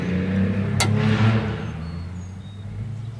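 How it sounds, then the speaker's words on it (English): A low, rumbling diesel engine drone swells and then fades as an old first-generation Dodge pickup with a Cummins engine passes nearby, with a brief sharp click in the middle. "That's an old Gen 1 Dodge right there with the Cummins."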